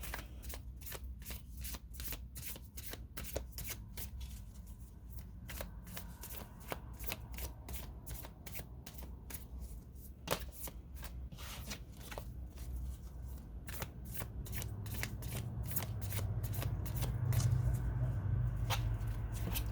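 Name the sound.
shuffling tarot card deck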